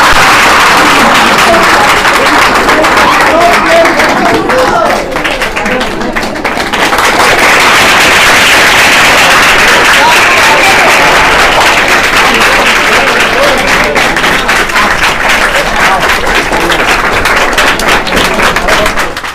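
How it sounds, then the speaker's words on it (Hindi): A seminar audience at a coaching institute applauds loudly and without a break, a dense, close wash of clapping that fills the whole stretch and overloads in places. "आप सबको जोरदार तालियों के साथ।"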